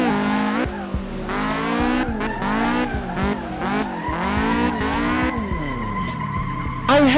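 Tires squeal and skid through long sliding drifts of a car in a racing video game, with the engine revving and shifting pitch continuously underneath, loud and close with no pauses.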